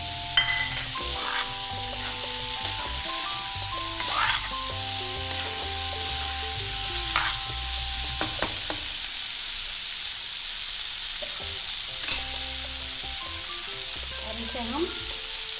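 Chopped green chillies fry in a pan for aloo gobi with a steady, close sizzle and occasional stirring scrapes throughout.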